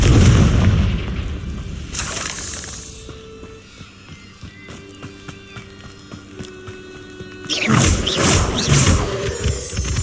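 A Confringo blasting spell fired in Hogwarts Legacy on hard difficulty, bursting in a loud boom at the start, with ringing tonal game sounds in the middle and a second heavy blast near the end.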